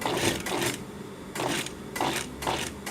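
Sewing machine stitching a trouser leg, running in steady bursts of rapid mechanical chatter that stop and restart three or four times, close and clear with no talk.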